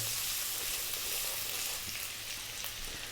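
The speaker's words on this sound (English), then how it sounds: "We're going to start off by dropping in the garlic and the ginger." Garlic and ginger sizzle steadily in hot sunflower oil in a wok over high heat, a continuous close frying hiss with small pops and no voices.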